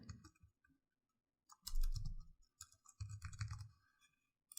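Computer mouse clicks come while setting up a recipe page on a website: a few close, dry taps in short clusters with quiet gaps between them.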